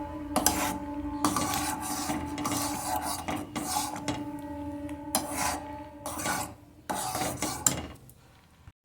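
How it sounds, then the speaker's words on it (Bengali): A metal spoon scrapes and stirs thickening khoya kheer filling in a pan, a steady run of close, rasping scrapes and clinks with short gaps, no voices. "এবার আমি নেড়ে যাচ্ছি।"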